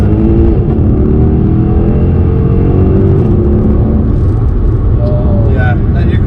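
Tuned Mercedes C63 AMG V8 engine rumbling loudly and steadily as it works down through the gears, heard from close by with people talking over it.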